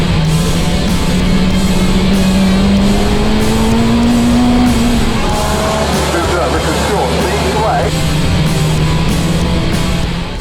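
A race car engine drones loud and close through a race, its pitch climbing and easing as it revs and shifts, with a voice talking over it.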